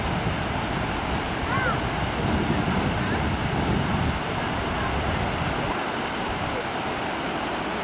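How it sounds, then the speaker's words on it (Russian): Steady rush of small Baltic Sea waves washing onto the beach at Vecāki, Riga, blended with gusty wind noise, continuous and fairly loud with no clear breaks. "Волны"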